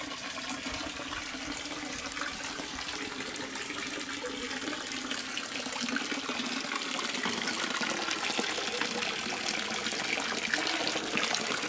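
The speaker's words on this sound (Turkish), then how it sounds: "Bu da köyün suyu." Village water pours continuously from an open pipe with no tap, a steady splashing gush that grows slightly louder partway through.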